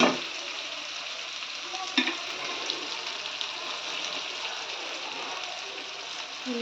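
A raw prawn and raw mango curry fries in a pan and is stirred. A dense, steady sizzle runs throughout, close and even, with an occasional spoon scrape or clink and no voices.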